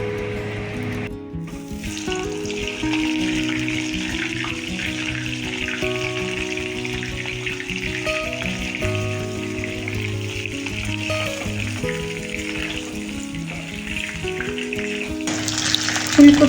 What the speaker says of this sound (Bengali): ফুলকপিগুলো এবার একটু ভেজে নেব ভাপ দেওয়ার পরে।